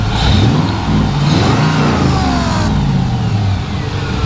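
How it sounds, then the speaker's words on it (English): An LS V8 engine in a 1957 Ford Thunderbird revs up and down a few times at close range, a throaty roar that climbs in pitch and then falls back toward idle. "Go ahead and start it up. Rev it up a little bit."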